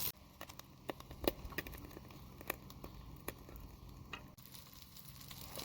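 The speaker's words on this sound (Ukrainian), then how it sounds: "Смажити будемо перепелині яйця." Quail eggs and sausage fry without oil in the sausage fat on a camp stove, giving a quiet, steady sizzle with soft scattered pops and ticks.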